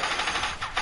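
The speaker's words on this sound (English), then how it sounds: "Why is he shooting me?" A short burst of rapid Fortnite gunfire, several sharp shots close together in quick succession, loud and alone.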